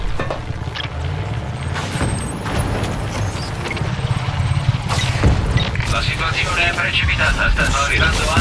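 Aircraft arrive as air support during a prison camp assault in the video game Just Cause 3, a loud rising jet roar among gunfire and mechanical clatter, with a voice speaking over it.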